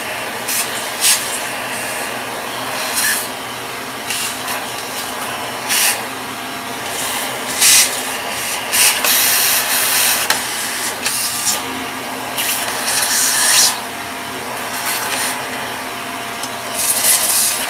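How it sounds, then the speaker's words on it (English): A vacuum cleaner runs steadily and loudly throughout with a whirring hiss, broken by scraping and rubbing bursts as it moves over a surface; no voices. "Sorry, I turned on the wrong vacuum."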